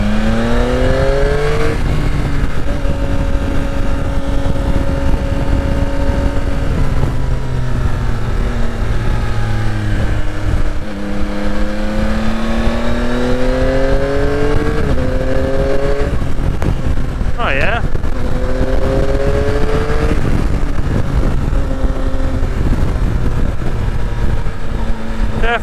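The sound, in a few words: 2022 Yamaha Tracer 9 GT motorcycle accelerating in second gear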